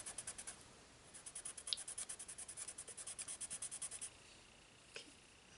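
A colorless blender pencil rubbed back and forth over a colouring page, producing faint rhythmic scratchy strokes in a quick steady series, close and quiet.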